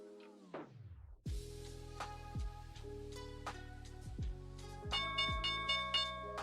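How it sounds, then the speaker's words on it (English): Stock market opening bell: a series of bright, ringing bell strikes with sustained tones and repeated dings, sounding loud and close, following a brief descending tone, with no talking. "there's the opening bell here"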